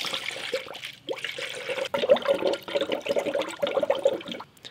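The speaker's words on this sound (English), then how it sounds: "You literally just put it inside of here until it stops." Pre-diluted blue long life coolant poured from a 4-liter jug into the cooling system of a Scion FR-S/Toyota 86, a close gurgling trickle and splashing with bubbling pulses, briefly pausing and then resuming more strongly.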